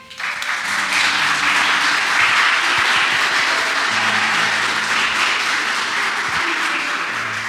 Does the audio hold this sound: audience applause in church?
yes